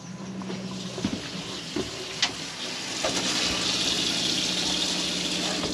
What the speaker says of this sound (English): Only open the tap slowly because of build up of air.